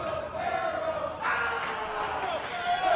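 A crowd at an indie wrestling show cheers and roars continuously in a large room, with swelling bursts of shouting and whooping throughout, loud and sustained.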